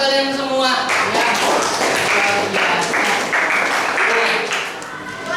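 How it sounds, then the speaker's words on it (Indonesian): Classroom of eighth-grade students clapping their hands together in a short burst of applause, with a teacher's voice heard over and around it. "tepuk tangan buat kalian semua"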